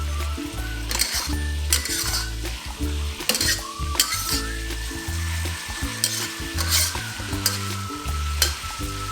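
Lotus root slices stir-fry in a hot pan with Chinese cooking wine and soy sauce, a continuous loud sizzle broken by repeated scraping and clinking of a spatula against the pan.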